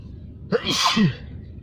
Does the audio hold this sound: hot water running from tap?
no